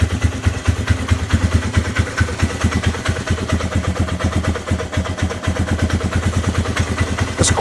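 A 2002 Polaris Sportsman 500 HO ATV idles after a carburetor rebuild, its single-cylinder engine chugging in a fast even loping pulse, close and loud throughout.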